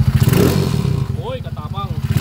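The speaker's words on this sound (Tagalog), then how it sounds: "Yan yung andar niya, bossing Jun." A motorcycle engine converted to 200cc idles nearby with a steady, rapid low thumping pulse, while a voice speaks briefly over it.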